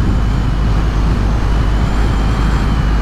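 A Triumph Rocket 3R motorcycle on a memorial group ride gives a loud, steady low engine drone, heavily mixed with rushing wind roar, constant throughout.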